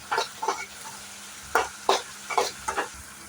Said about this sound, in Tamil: இப்போ இது நல்லா கொஞ்சம் நேரம் வதங்கட்டும்